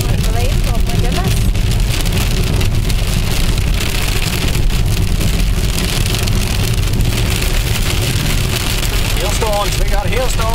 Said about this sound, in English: Hailstones, we got hailstones.